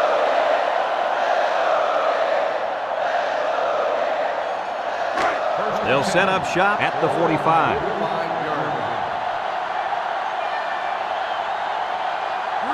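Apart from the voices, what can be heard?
stadium crowd noise in NCAA Football 2005 video game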